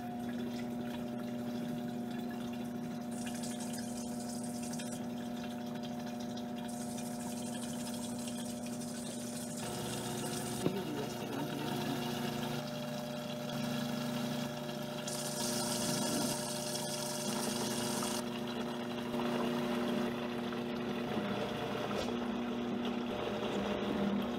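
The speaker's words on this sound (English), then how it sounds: "we're going radio silent while we do the mixing in the Vitamix" A Vitamix blender mixing homemade mayonnaise whirs steadily and loudly for a long stretch, its motor pitch shifting slightly as the contents churn, with no talking.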